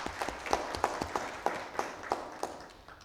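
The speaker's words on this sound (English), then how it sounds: "a round of applause for our guest." A conference audience claps for a guest speaker, a fairly sparse round of applause with distinct individual hand claps in an uneven rhythm, moderately close and fading slightly toward the end.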